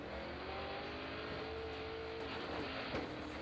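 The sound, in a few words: drift car at speed on Falcon street tires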